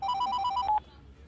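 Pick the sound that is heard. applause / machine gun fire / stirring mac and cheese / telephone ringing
telephone ringing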